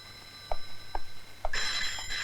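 Telephone bell ringing in a police station in a Hindi film, a few short rings at the start followed by a sustained bright ring, near and alone without talk.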